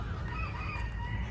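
Chickens in the grounds of an ISKCON temple in Poland, with fowl calls faint and indistinct beneath a steady low outdoor rumble.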